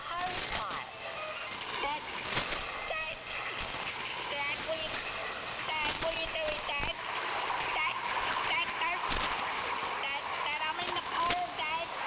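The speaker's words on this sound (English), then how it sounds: "He's got a hose pipe." Water from a hose pipe splashes and sprays continuously, heard through a narrow-band shortwave radio broadcast, with voices talking over it throughout.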